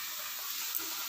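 Battered aubergine slices, Bengali beguni, frying in hot oil, giving a steady close hiss and sizzle that holds evenly throughout with no voices.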